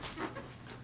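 A dog pants softly in a bedroom, a few quick breathy huffs close by at low volume, with no voices.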